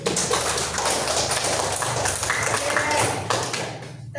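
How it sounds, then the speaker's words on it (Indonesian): Classroom applause for a student during a lesson on simple machines, dense continuous hand clapping from a group of children filling the room, fairly loud, ending abruptly. "kita tepuk tangan untuk Desti."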